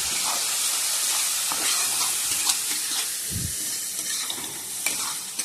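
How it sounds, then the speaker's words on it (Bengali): Spices and sauce fry in a pan with a continuous loud sizzle and hiss, while a utensil stirs and scrapes through the mixture in irregular strokes, close up and without talk. "আর একটু নাড়াচাড়া করে নিই"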